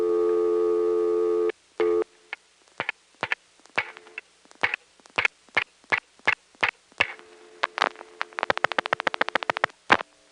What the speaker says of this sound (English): A reorder which times out to regular permanent signal, busy signal.